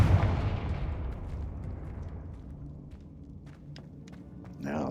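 A Confringo blasting spell goes off in a video game, a loud booming explosion at the start that rumbles and decays over several seconds, followed by faint footsteps and a small burst at the end.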